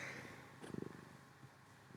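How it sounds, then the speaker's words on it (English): A cat purrs softly and close, a faint rhythmic rumble that swells into a brief run of pulses and then fades back, with no talking over it. "He's purring like crazy."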